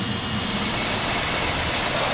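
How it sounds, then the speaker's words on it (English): A 1998 Toyota Corolla engine idles roughly with a dead misfire, throwing multiple cylinder misfire codes, a close, steady, uneven rumble that continues without pause and with no one talking over it. "I wanted to show you how bad this engine's running. It actually has a dead misfire."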